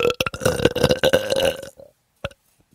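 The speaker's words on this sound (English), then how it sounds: "the belch goes something like this." One long, loud, rumbling belch close to the mic, followed by a short pause and a brief second burp-like sound.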